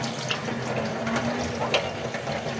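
Running water splashes steadily over the leaves of a money plant being washed, a close, continuous trickle and patter with a few brief louder splashes.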